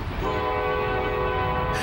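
A CSX freight train on the Palmetto Sub in West Florida sounds a loud sustained multi-tone horn over rumbling rail noise, close by, with no talk.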